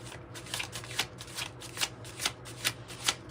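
Oracle cards from a deck being shuffled by hand, a steady run of crisp riffling bursts repeating roughly every half second, close and fairly quiet with no talking.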